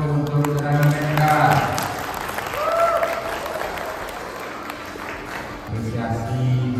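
An audience at the premiere of the Minang classic film Pandeka Kaciak applauds the film team, sustained clapping rising and fading over several seconds while someone speaks over it.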